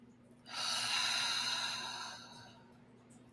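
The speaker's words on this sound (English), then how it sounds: "Inhale and exhale." One long, deep breath during a soul meditation, a slow airy inhale swelling then easing off over about two seconds, close and soft, above a faint low hum.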